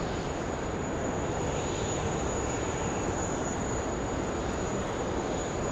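Qantas Boeing 737 jet airliner at Sydney Airport, a steady broadband engine roar with a faint high whine, heard alone at a distance.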